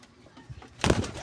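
Pigeons kept as racing birds give a brief, fairly near coo near the end of a short, otherwise quiet moment.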